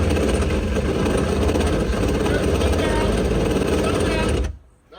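Faulty wakeboat motor, one of two engines, running with a steady rough drone close by for several seconds before cutting off abruptly, with voices over it.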